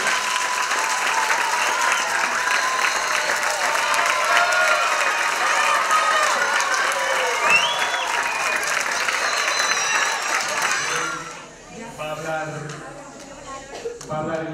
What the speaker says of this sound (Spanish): hoy estamos aquí todos para darle un fuerte aplauso